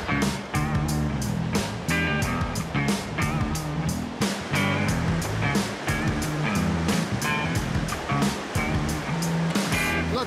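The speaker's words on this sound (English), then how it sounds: "Here we are on the rapids now. This is the Chilliwack River." Whitewater rapids of the Chilliwack River rush and roar close by, a loud churning wash broken by repeated splashing bursts, with no voices heard.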